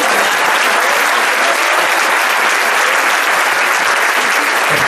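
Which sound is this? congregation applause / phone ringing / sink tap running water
congregation applause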